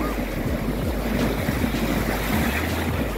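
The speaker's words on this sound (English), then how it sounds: "Look, y'all see how big the waves is?" Big ocean waves at a beach, a loud continuous rush of surf and churning water with heavy wind noise buffeting the microphone, no voices.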